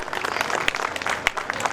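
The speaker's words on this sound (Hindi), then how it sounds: "आप सभी उनके लिए ताली बजाकर" An audience at an annual function claps in a brief, steady burst, moderately loud and fairly close, with a few sharper individual claps standing out.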